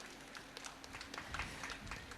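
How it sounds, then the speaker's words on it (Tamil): Faint, scattered clapping from the audience at an annual day celebration, a few hands patting irregularly at a distance with no strong burst. "இப்போதான் கொஞ்சம் கைதட்டு வர ஆரம்பிச்சிருக்குதுன்னு நினைக்கிறேன்."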